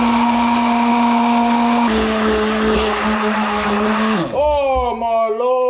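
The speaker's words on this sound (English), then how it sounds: "I brought the blender too close to the top and it went" Kitchen blender whirring through pumpkin soup, a loud steady motor drone whose pitch sags and wobbles toward the end as the load shifts, close and continuous.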